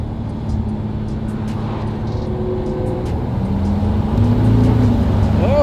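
A Buick Grand National classic car drives along, its steady engine drone and road noise building slightly louder near the end, with brief voices and cabin sounds over it.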